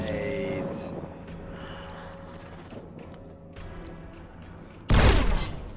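Grenade blasts and gunfire in the game Fallout New Vegas start with scattered shots and clatter, then one sudden loud close explosion hits near the end.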